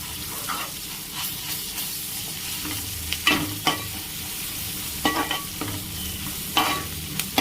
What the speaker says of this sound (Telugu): ఈ అల్లం పచ్చివాసన పోయేంత వరకు వేయించుకోండి.